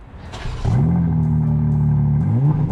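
A BMW M4 Competition Convertible engine cranks and fires after a short starter whir, then settles into a loud, steady, rumbling idle close by, with no talking.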